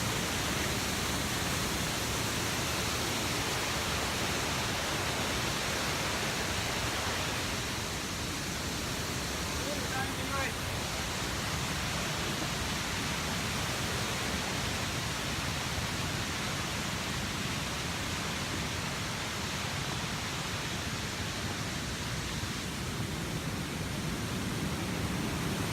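Loud, constant rushing water pours from the top of the lower waterfall in Bells Canyon, a dense roar that fills the whole clip with no break.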